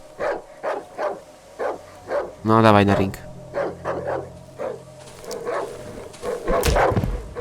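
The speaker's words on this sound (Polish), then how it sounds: "Siema piesek." A dog barks repeatedly in the video game Darkwood, sharp evenly spaced barks mixed with a longer growling howl, while someone speaks over them.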